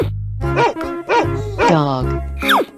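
Cartoon dog barking in a children's animal sound segment, several loud, close barks in a row over cheerful music.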